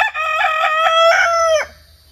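A backyard chicken crows once, loud and close, a drawn-out harmonic call lasting over a second before breaking off into quiet.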